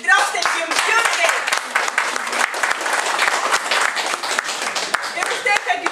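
An audience at the end of a festive gathering bursts into sustained applause, dense hand clapping from a crowd close by, steady for several seconds with some voices mixed in.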